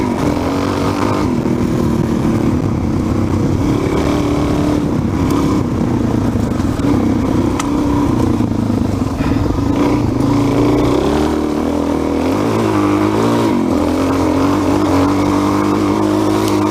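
A Suzuki DRZ 400 motorcycle engine drones steadily while being ridden at around 1,200 feet elevation, with a loud, continuous close-up roar and slight shifts in pitch as the throttle changes.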